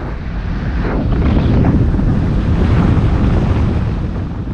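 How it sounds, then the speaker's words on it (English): Steady, heavy wind buffeting a microphone on a riverside road in New Taipei City, a rough low roar that swells slightly in the middle and never lets up. "so you're just going to have to put up with that wind noise"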